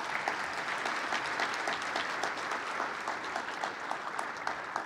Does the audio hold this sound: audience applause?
yes